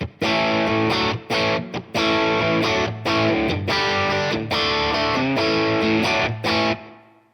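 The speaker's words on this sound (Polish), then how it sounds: "zobaczymy, czy ten overdrive potrafi fajnie przesterować czysty wzmacniacz. Jesteśmy w trybie standard, włączam." An electric guitar played through a BOSS SD-1W overdrive pedal in standard mode into a clean Marshall JCM 800 amplifier, giving loud crunchy distorted chords and riffs in short bursts with brief gaps, the last chord ringing out and fading.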